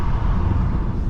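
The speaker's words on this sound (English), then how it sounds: "so now you can hear how much more wind there is on the road." Steady broadband wind rush from an open window of a 2022 Mercedes C-Class while driving on the road, a loud continuous roar with low rumble and no talking.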